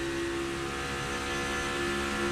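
A NASCAR Cup Series race car at the Quaker State 400 runs wide open, its engine a loud, steady high-rpm roar with a sustained whining tone throughout.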